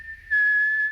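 A person whistles to imitate an approaching train whistle, a single clear sustained tone that starts soft and then swells louder, held close and alone.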